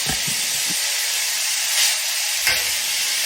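Onions stirred in hot grease in a pan, a steady frying sizzle and hiss throughout, with a few soft scraping stir sounds near the start and two brief louder bursts later.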